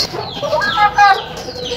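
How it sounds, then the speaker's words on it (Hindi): Aseel chickens clucking close by while being carried indoors, giving short loud, bright squawks and clucks over a brief stretch. "जो मुर्गियाँ हम उनको भी ले आते हैं अंदर"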